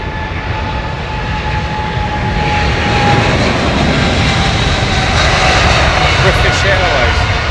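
Jet airliner engines at London Heathrow Airport roar loudly and steadily, swelling into a broad rushing drone that holds strong to the end, with people talking over it.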